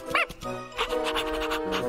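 A cartoon puppy gives a couple of short, high yips and barks, close and bright, followed by breathy panting sounds over a light musical backing.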